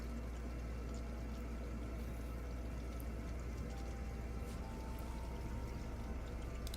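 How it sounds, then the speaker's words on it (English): A looping water sound effect plays as a faint, steady wash of running and dripping water, a constant, even ambience with no pauses. "I'm going to turn off the dripping water sound because the water is no longer running"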